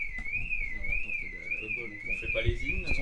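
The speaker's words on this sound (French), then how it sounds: "C'est une alarme de voiture, non?" A car alarm sounds as a game-show gong, a steady warbling electronic whoop rising and falling regularly over faint background noise and murmur.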